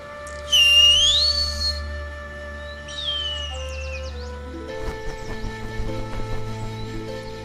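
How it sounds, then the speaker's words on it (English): A sharp rising whistle in the adventure game Yesterday Origins calls a falcon, followed by a second shorter whistle and then chirping bird calls and faint clopping under a steady tonal game soundtrack. "If you put on the glove and whistle like Guinness does, the falcon will come."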